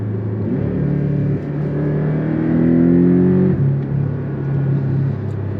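Porsche Cayman GTS with a 365 hp mid-mounted engine accelerating on a road test, a loud, close engine note climbing steadily in pitch through the gears, with a brief dip at each shift and nobody speaking.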